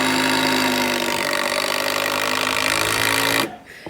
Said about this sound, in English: what Andy's doing right now is drilling some boards